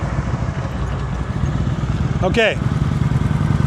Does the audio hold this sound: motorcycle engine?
yes